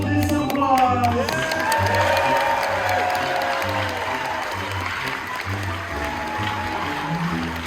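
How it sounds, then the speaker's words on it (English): Audience applause and cheering at a magic show aboard a Royal Caribbean cruise ship, a broad sustained wash of clapping with people talking over it, steady and moderately loud across the whole stretch. "Katie, this is for you, along with all of this applause."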